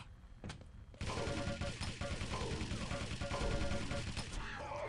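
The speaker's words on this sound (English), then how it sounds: "Nice MG work by Serp" Rapid machine gun bursts in a Quake team deathmatch game run nearly continuously after a short opening, loud and dense with other arena combat sounds layered in.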